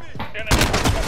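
A VTOL aircraft fires its guns in Call of Duty: Modern Warfare, a sudden loud burst of rapid gunfire lasting about half a second after a brief lead-in of game noise.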